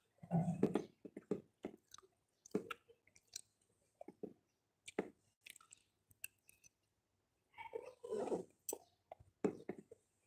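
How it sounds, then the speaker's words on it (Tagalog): Close, wet chewing with soft squishy bites in irregular bursts, pausing briefly between mouthfuls; no talking. "Pinig ba yung nguya ko?"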